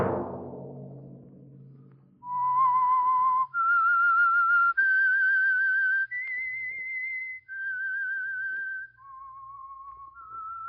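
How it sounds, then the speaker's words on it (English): A clear whistled tune of sustained, sliding notes rings out alone, each pitch held then stepping to the next in a short melodic phrase, the theme signal of an old-time radio program. "Let that whistle be your signal for the Signal Oil program"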